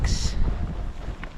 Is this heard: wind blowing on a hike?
yes